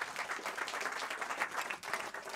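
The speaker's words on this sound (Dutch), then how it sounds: "een enorm applaus voor Remco Dercksen" Audience applause for a speaker at an urban development talk in Amsterdam: a faint, continuous patter of many hands clapping, heard from a distance throughout.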